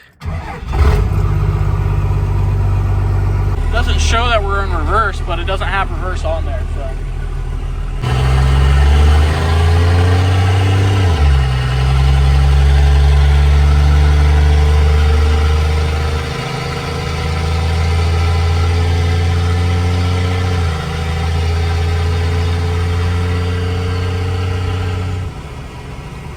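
The engine of a 12-valve-swapped C30 truck that sat for a year runs loudly and steadily close by, a deep idle with slight shifts in pitch, while someone briefly talks over it near the start.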